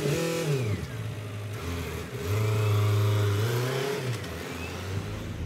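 A car engine revs and accelerates close by, its pitch rising and falling through several gear changes with a steady road rumble underneath and no talking.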